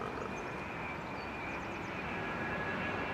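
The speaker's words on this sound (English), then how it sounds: "Dreamliner." A Boeing 787 Dreamliner arriving at London Heathrow in the early morning gives off a constant, even jet roar with a faint whine, distant and unbroken throughout.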